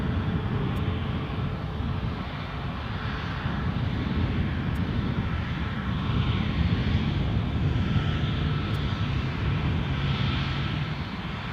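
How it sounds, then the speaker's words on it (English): Ryanair airliner departing Edinburgh Airport for Brussels, its engines a steady, loud, broadband roar that holds for the full stretch without any voices. "So here we go, Ryanair off to Brussels."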